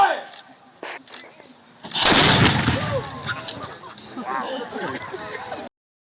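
A historic artillery cannon fires during a demonstration at Old Fort Niagara: one loud, sharp blast breaks over quieter crowd sounds and then rolls into a long, fading rumble while voices carry on in the background.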